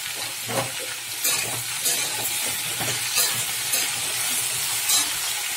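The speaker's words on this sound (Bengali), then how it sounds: "আলুটা আগে কষে তারপরে ঝিঙেটা দিয়ে দিলাম" Potatoes and ridge gourd fry in a pan, seasoned with salt and turmeric, giving a steady broadband sizzle with occasional stirring scrapes and clatters throughout.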